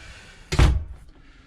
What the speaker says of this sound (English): Go ahead and close this door.